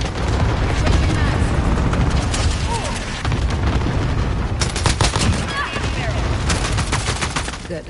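Rapid gunfire bursts and booms from a Call of Duty Modern Warfare online match, dense and continuous throughout, with machine-gun volleys and shots layered under in-game radio chatter.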